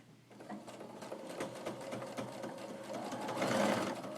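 A sewing machine stitching quilt block pieces with a scant quarter-inch seam, running as a steady close mechanical whir that grows slightly louder toward the end.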